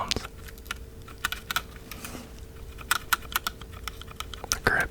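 Game controller buttons and trigger clicked close up, a string of crisp plastic clicks and taps in an uneven rhythm over quiet background, no voice.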